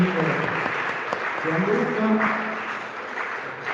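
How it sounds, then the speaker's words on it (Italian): A seminar audience gives a burst of applause that carries on steadily at moderate volume, while a voice speaks briefly over the clapping. "Un applauso, grazie infinite"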